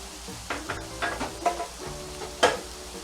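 Shallots sizzle in a hot pan for a steak au poivre dinner, a soft steady frying hiss broken by a few louder stirring scrapes and crackles, with no talking.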